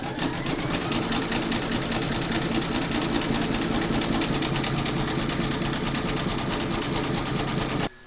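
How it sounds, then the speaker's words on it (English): Embroidery sewing machine running a zigzag stitch along the edge of a placemat, a fast, even mechanical whir with rapid needle ticking, close and constant until it stops abruptly at the end. "You're now going to stitch round number 7, and that's going to zigzag this edge here."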